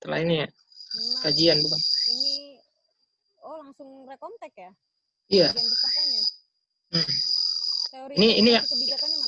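Insects like crickets or grasshoppers chirp outdoors in a steady high-pitched trill that recurs in bursts, mixed with close conversation between two people talking in turns.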